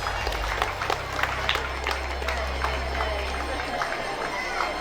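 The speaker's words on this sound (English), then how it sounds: "Please give him a big round of applause." Scattered clapping from an audience at a school annual gathering carries on steadily over a low hum, moderately distant and not very loud.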